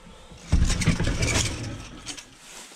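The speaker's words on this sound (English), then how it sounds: "And then the sliding door" A sliding bathroom door in a 2020 Ice Castle 17-foot American Eagle RV fish house rolls along its track in one continuous rumbling scrape, starting abruptly and trailing off over about two seconds, close and fairly loud.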